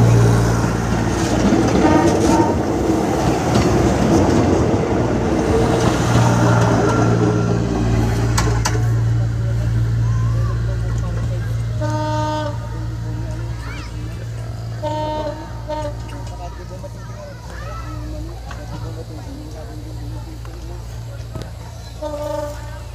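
A Philippine National Railroad passenger train rumbles past at night on the Lucena–San Pablo route, its horn sounding in loud repeated blasts over heavy rolling noise that gradually fades, with people talking throughout.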